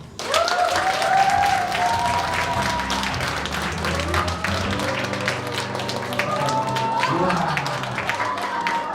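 An audience claps steadily for several seconds at a fan meeting and year-end concert, the applause loud and sustained, with a singing or speaking voice running underneath.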